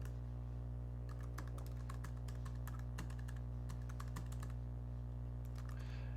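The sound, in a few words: typing an email account and password on a computer keyboard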